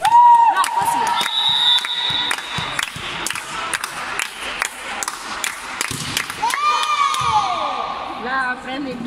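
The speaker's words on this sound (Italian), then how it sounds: "applausi per lei" A volleyball crowd in a gym claps and cheers, with sharp rhythmic claps, shouts and whistle-like tones. Announcer-style talk and voices overlap the noise.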